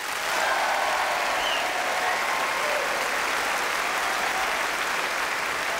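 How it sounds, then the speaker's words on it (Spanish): Sustained studio audience applause for guests on a Spanish-language TV programme, a thick, even wash of clapping that stays loud and steady throughout with no voices standing out. "Por favor, un aplauso de nuevo a estas figuras que están aquí."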